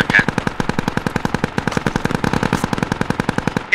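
Incoming gunfire from the Squad military shooter game rattles in a sustained, rapid automatic burst, loud and close, with each round sharply separated and no voices.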